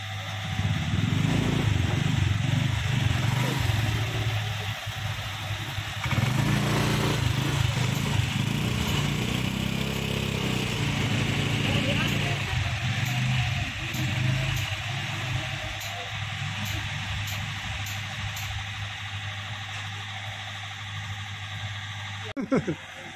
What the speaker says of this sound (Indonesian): Kita lakukan beberapa kali pengegasan untuk pengeringan dan mengeluarkan kerak-kerak.